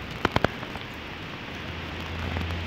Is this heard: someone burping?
no